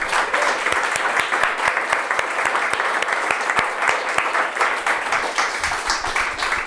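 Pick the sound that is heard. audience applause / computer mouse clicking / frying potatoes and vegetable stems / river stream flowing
audience applause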